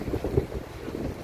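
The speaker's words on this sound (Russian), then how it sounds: "И сегодня я решил покататься на корабле." Boat ride on the open sea off Thessaloniki, Greece, heard as a steady low rumble of engine and water with heavy wind buffeting the microphone, continuous and close, with no voices.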